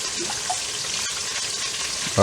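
Chicken wings sizzle steadily in a hot pan, then Frank's RedHot original sauce hits the pan with a sudden, louder hissing burst at the very end.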